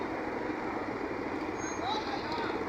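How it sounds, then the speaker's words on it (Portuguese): A truck and a concrete mixer truck crawl slowly through a small town street, a low steady diesel rumble close by with a brief hiss of air brakes. "Caminhão e betoneira. Tá passando bem devagarzinho."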